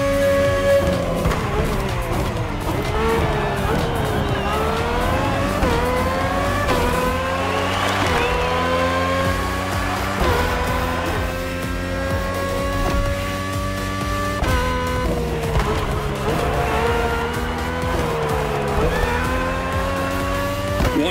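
A Red Bull RB18 race car with a Honda engine screams through gear changes in The Crew Motorfest, its high engine note rising and dropping repeatedly with tyre squeal, loud and continuous, no speech.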